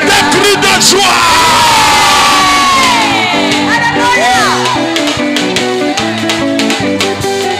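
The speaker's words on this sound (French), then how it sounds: "Est-ce qu'on peut pousser des cris de joie?" A worship crowd at a French-language praise gathering erupts in loud, sustained cries of joy, with shouts, whoops and cheers layered over music and voices for the whole stretch.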